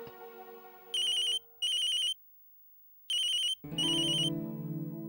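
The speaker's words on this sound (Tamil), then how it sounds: "ஆடிட்டர் ஃபோன் பண்றாரு" A telephone ringtone chimes in two bright bursts, pauses in silence, then rings twice more, with a music bed playing before and after.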